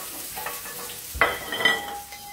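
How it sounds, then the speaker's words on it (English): Chopped spring onions stirred in a hot oiled pan for carbonara, with a steady low sizzle and a couple of spoon scrapes and clinks partway through. "Gonna give them a quick stir around, get them moving just a wee bit."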